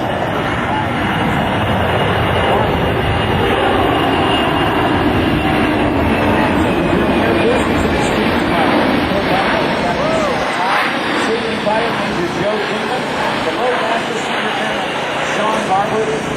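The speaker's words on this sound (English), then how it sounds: "Taking off right now in less runway than it took for the 2 other airplanes." A Boeing C-17 Globemaster III military transport taking off at an air force base open house, a loud, steady, broadband jet roar filling the whole stretch, with an announcer talking over it.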